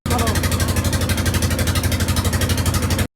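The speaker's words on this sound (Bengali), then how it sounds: "মোটামুটি মিনিট বিশেক পর আমাদের ট্রলার ছেড়ে দেয়" A river trawler boat's engine chugs continuously and loudly close by on the Brahmaputra, a steady pulsing rhythmic thump unchanging throughout.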